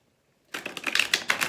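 Tarot cards riffle and slap together in quick, crisp bursts after a moment of silence, a close, fast shuffling clatter.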